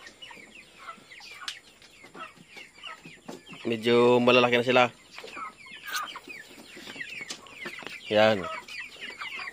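Backyard Spartan chickens cluck and chatter nearby, with two louder squawking calls standing out, while a person speaks briefly in the background.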